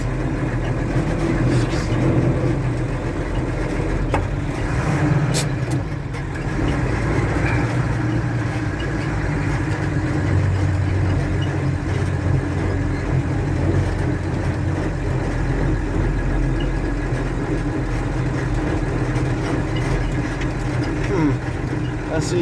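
A Mercedes-Benz LA328 truck engine drones steadily and loudly while driving along a rough road, a continuous low rumble with rattles and clunks throughout.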